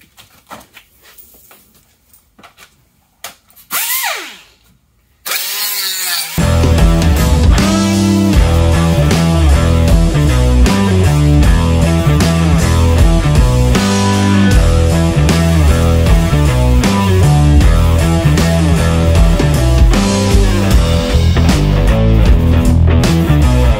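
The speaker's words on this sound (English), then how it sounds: "Bondo sanding." After a few brief knocks and a short burst of noise, a loud power sanding disc grinds steadily and harshly over Bondo body filler for a long stretch, close up.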